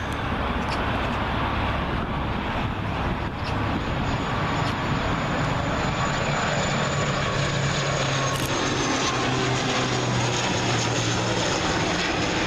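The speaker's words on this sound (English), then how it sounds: "Logan Air ATR 72500. This one from the Isle of Man." A Loganair ATR 72-500 turboprop arriving at Heathrow runway 27L, a loud, steady engine roar and propeller drone that fills the whole stretch with a faint high whine, no talking.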